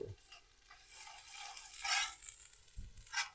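Onion paste fries in a pan for a chicken white korma, giving a soft, close sizzle that swells and fades, with occasional stirring scrapes and light knocks and no voices.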